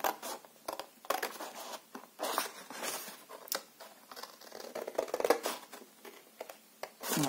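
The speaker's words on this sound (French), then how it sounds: "On coupe un pli de l'extérieur" Scissors snipping through folded paper from the outer edge toward the center while making a pop-up mini album, heard as quiet, close crisp cuts and rustles spread across the clip with no talking.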